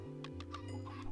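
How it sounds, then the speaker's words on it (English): A Minecraft chicken gives a quick run of short clucks, about five soft bursts in just over a second, over a low steady game music bed; no talk. "There's a chicken, get out of here."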